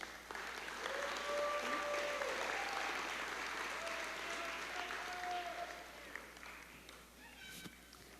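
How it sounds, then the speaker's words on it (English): A graduation audience at Charter College Pasco's 2021 ceremony breaks into sustained applause, loud clapping mixed with a few whistles and cheers that tapers off toward the end. "Let's give them all a round of applause for their outstanding performance."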